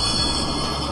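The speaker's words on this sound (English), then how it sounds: "Tram." A tram rolling on rails gives a steady, loud metallic rumble with a faint wheel squeal above it, continuous and close, with no voices.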